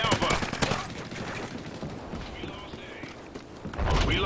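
Rapid gunfire in Call of Duty Ghosts, a dense burst of shots up front and another burst at the end, with game announcer voices and a player talking in between.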